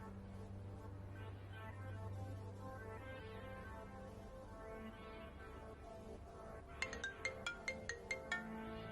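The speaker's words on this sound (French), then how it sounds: "y a ton téléphone qui sonne" A mobile phone ringtone plays as a soft repeating melody under a quiet background hum, then a run of sharp, bright chiming notes comes in near the end, faint overall.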